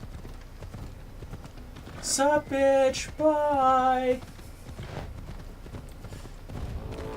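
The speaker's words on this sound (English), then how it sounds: "Pretty horse though." Horse hooves clip-clop steadily in Assassin's Creed Odyssey under a spoken voice, with a loud vocal outburst in the middle.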